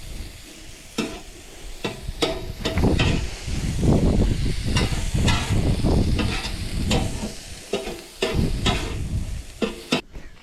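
Shrimp fried rice cooked in a pan inside a truck in the mountains, with a steady loud sizzle and hiss broken by repeated sharp scrapes and clacks of a stirring utensil.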